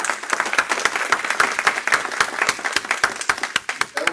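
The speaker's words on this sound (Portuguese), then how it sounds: "uma salva de palmas para ele" Applause from a modest audience at a legal profession talk, a brisk patter of distinct individual claps that stays fairly close and even throughout.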